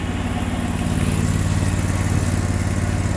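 Sears Suburban loader with a 20HP V-twin engine driving through deep snow, its steady close engine drone running continuously without pause and no talk over it.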